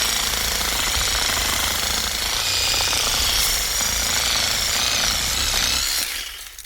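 An AL-KO HS 2015 18V cordless reciprocating saw cuts steadily with a loud, fast buzzing rasp that runs continuously for several seconds, then winds down as the blade stops, with no talking.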